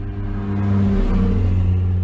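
A car with no exhaust revving loudly on a night test session, a steady deep rumble that swells after half a second and holds strong and close throughout.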